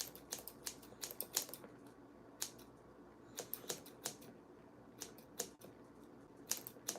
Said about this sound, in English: I'm going to be doing some point cutting on the hair